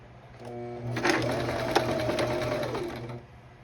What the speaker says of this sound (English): And then just sew it all the way down.